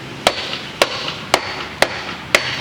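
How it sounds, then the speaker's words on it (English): A bigger hammer strikes a wooden block placed against wood during repairs to a rotten Victorian porch, five sharp, evenly spaced knocks close up, each followed by a short ring, with no talk. "now you can use a bigger hammer and really just knock it hard"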